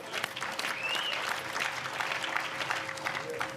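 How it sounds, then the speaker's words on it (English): A crowd at a memorial celebration for Rev. Jesse Jackson Sr. breaks into sustained applause, loud and dense from start to finish, with faint voices mixed in. "Y'all can clap on that. Go ahead."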